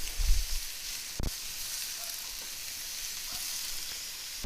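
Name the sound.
portobello mushroom strips searing in a very hot skillet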